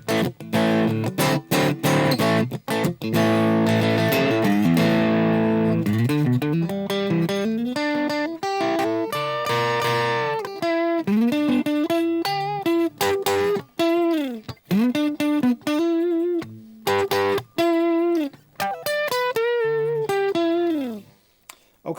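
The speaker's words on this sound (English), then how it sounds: "So what you hear now is all three pickups are active." A twangy Fender Player Plus Nashville Telecaster with all three pickups active plays a run of picked notes and bends, bright and clean, with short gaps between phrases and no voices.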